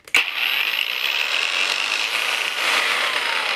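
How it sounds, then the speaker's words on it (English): An angle grinder starts up and runs at high speed while cutting, giving a loud, steady, high-pitched whine that holds without a break from just after the start to the end. "This is angle grinder. So, I'm cutting. You listen this machine sounds."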